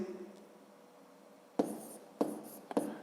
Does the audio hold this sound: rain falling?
no